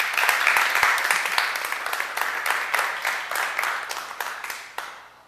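Studio audience applauding a guest speaker, Kelly Brown, at a Creative Live event: dense, steady clapping from many hands that holds for several seconds, then tapers off at the end.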